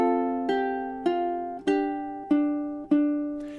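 A ukulele plays measures 14 to 16 of Scarborough Fair as a solo, six clear plucked notes at an even, unhurried pace, each ringing out and decaying before the next, close and alone with no voices.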